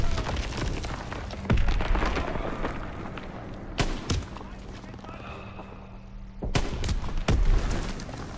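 Several sharp, loud bangs of gunfire in Call of Duty: WWII ring out at irregular intervals over a busy background of game noise, like distant and nearby gunshots.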